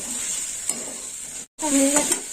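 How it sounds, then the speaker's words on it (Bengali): Spice paste stir-fried in a pan for a Bengali green banana ball curry crackles with a close, loud sizzle, broken by a brief silence before the frying resumes with a faint hum. "মশলা দিয়ে কষে নেব"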